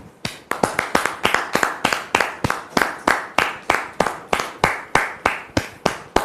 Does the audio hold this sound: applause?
yes